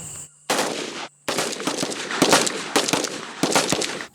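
Gunfire from a military search unit's maneuver shooting training near the DMZ: loud, sharp shots in irregular bursts separated by brief silent gaps, fairly close and with no talking.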